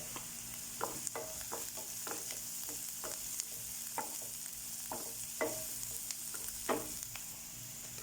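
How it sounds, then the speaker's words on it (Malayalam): Onions being sautéed in a pan while making masala bonda, with steady sizzling and repeated scraping stir strokes across the whole span, fairly close and with no talk. "നല്ലതുപോലെ വഴറ്റുക."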